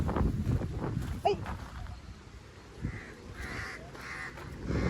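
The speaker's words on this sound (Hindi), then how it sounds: "कौवे हमारा पीछा नहीं छोड़ रहे।" Crows caw several times at a zoo safari park in Karachi, clear calls rising over steady outdoor rumble and light wind while people talk nearby.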